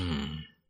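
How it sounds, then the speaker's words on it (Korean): An elderly father clears his throat once, a short, close, gruff rasp that fades out quickly, with no other sound around it. "헛기침을 한번 하고서 진지하게 말했다"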